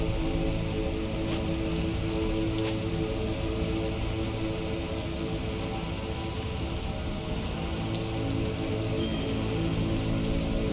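Heavy downpour-season rain in the city-building game Against the Storm, a steady hiss of falling water with a low rumbling bed, continuous and fairly loud with no voices.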